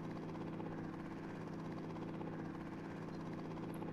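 A helicopter in the Wild Animal Transport Simulator mobile game flies with a steady, unbroken engine and rotor drone at even volume throughout, with no voices.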